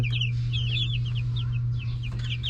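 Dekalb White laying hens cluck in a busy chorus of short, repeated calls, moderately close, over a steady low hum.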